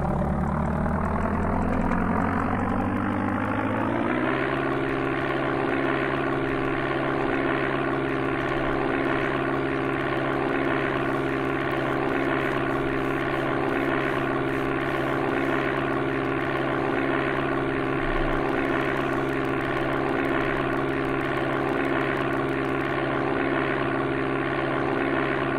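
A propeller airplane in the Amiga game Flight Simulator II spools up and takes off, a steady synthesized engine drone rising in pitch over the first few seconds, then holding a loud, constant buzzing hum with no talk.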